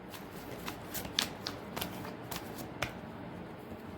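Tarot cards being shuffled by hand, a run of soft crisp riffles and slaps spread across a few seconds at moderate volume, with no talking.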